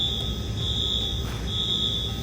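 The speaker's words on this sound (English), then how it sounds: "The fire alarm, which sounds like the following," An energy plant's fire alarm sounds as a steady, piercing high electronic tone that holds almost continuously, with a brief dip partway through, over a low background hum.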